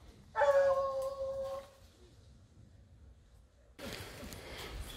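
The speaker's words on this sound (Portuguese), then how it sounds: "O cachorro já tá dando umas trias, ó." A hunting dog on a wild boar trail gives a drawn-out, wavering bay or howl from middle distance, followed by quiet and then rustling brush noise nearby.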